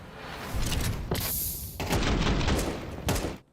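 Rifle fire in a professional Counter-Strike esports match: loud, dense bursts of rapid gunshots and booming reports roll almost continuously, with brief gaps before the firing resumes.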